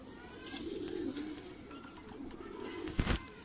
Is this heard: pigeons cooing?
yes